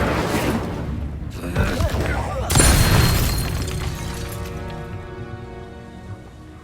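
An Incendio fire spell goes off in Hogwarts Legacy: a crackling build, then a loud burst of flame around the middle that rings and slowly fades, backed by a faint musical drone.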